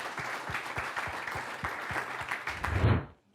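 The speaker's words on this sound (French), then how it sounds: "On peut encore les applaudir, évidemment." An audience applauds steadily, a dense patter of many hands clapping, swelling slightly near the end before cutting off abruptly.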